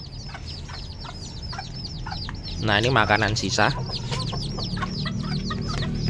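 Backyard chickens cluck and crow close by, with repeated short calls throughout and a louder burst of rooster-like calls in the middle, while a person speaks briefly.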